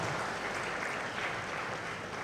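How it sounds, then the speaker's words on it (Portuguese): Audience applause for a graduating class of a Christian formation course at a church diploma ceremony: dense, sustained clapping from many hands, steady and fairly close throughout. "para o aplauso de vocês, a turma, primeira turma"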